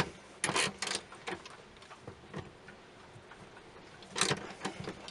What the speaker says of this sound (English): we're gonna go ahead and take out all the other 10 millimeter bolts